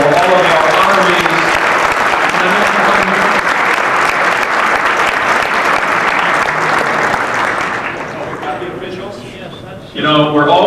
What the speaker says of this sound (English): How about a final round of applause for all of our honorees.